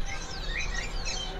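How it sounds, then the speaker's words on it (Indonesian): At a busy bird market, a kutilang sutra chirps in short, thin, high tweets that sit faintly over a dense wash of crowd and market noise. "di sini ada kutilang sutra nih"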